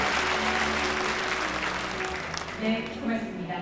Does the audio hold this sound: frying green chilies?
no